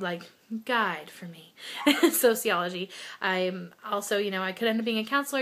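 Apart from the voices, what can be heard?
No everyday noise stands out behind the speech.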